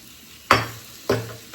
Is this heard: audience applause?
no